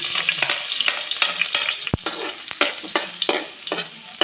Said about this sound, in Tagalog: So, ilalagay natin yung bawang.